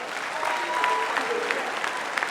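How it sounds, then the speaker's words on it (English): A room full of people claps steadily at a university honorary doctorate ceremony, a dense patter of applause at moderate distance, with faint voices mixed in. "she also deserves a round of applause"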